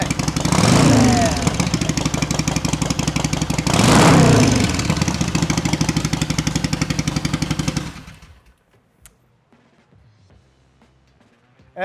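A fuel-injected Harley-Davidson chopper engine from 2007–13 with a new wiring harness fires up into a loud, lumpy idle with two revs. It then shuts off, leaving near silence with a few faint clicks.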